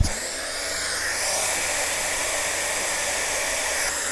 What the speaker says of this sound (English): I will hit it with my heat tool.